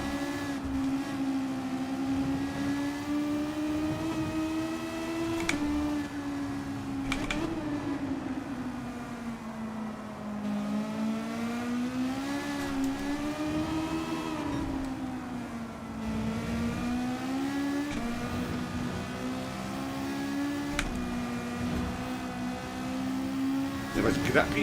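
Group 3 race car engines in Gran Turismo 7 on the Deep Forest Raceway Reverse course, a Porsche among them, drone with a strong steady tone that rises and falls through gear changes and corners, loud and continuous, with someone talking over them.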